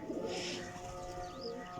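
A Kasuri jaaldar pigeon gives soft, low cooing, faint and slightly distant over a quiet background hiss, with a brief brighter call near the end.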